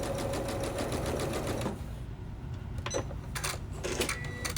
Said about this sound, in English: I'm going to start sewing on the diagonal here. I've got my needle down and I'm just going to start sewing.